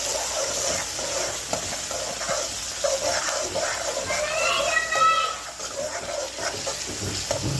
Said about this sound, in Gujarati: આ ટામેટા ફ્રાય થાય છે.